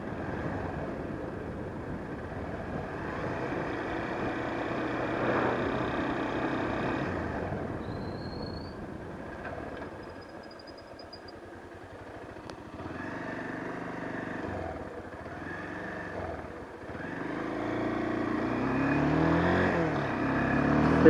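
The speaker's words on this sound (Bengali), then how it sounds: "থার্ড গিয়ার ঘুরে উঠাইতেছে আবার" A Bajaj Pulsar 150 motorcycle accelerates steadily through its gears, engine note holding strong with rising and falling pitch sweeps toward the end as it shifts, recorded close with continuous wind and road noise and no talk.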